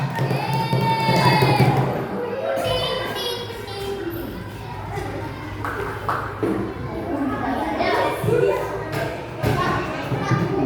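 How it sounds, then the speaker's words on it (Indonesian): Children in a classroom applaud, cheering and shouting as a lively group, with claps and voices mixed together and continuing for most of the clip. "Tepuk tangan ya."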